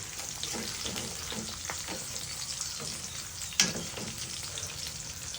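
Sunny side up eggs fry in a pan with a steady, close sizzle and faint crackle that runs throughout, with a single sharp clack near the end.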